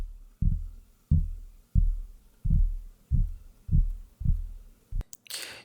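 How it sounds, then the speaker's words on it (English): Hits on a wooden table recorded with a LOM Geofon geophone: eight evenly spaced, deep muffled knocks, each a solid low thud fading quickly, followed by a brief bright scrape at the end. "And some hits on a wooden table."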